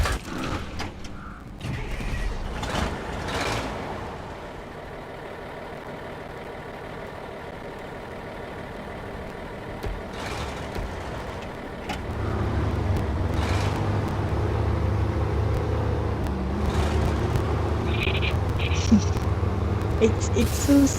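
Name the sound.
truck engine rumbling in video game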